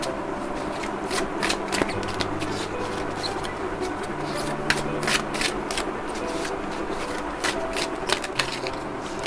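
Tarot cards are shuffled by hand in a steady, continuous riffle of crisp flicks and shuffling, close and fairly loud, with no talking over it.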